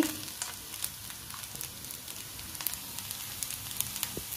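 Peanuts fry in hot oil and are stirred while mango pulihora is made. A soft, steady sizzle carries scattered small crackles and pops, quiet and close, with no talking.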